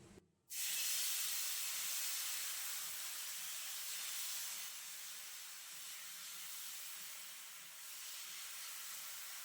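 Tal-pitha batter (sweet palm-fruit pancake, chhera pitha or saru chakuli) sizzling on an oil-brushed hot tawa over a gas flame: a sudden loud, steady hiss that starts within the first half-second and holds, easing slightly, with no voices.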